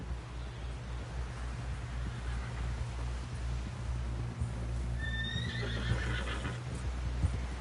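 A horse in Red Dead Redemption 2 gives a loud, clear whinny partway through, while steady hoofbeats clop underneath, close and out in the open with a light wind.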